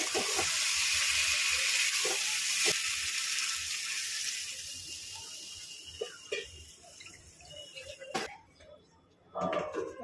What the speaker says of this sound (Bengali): আলুটা আমার কষানো হয়ে গেছে বন্ধুরা এবার আমি জল দিয়ে দেবো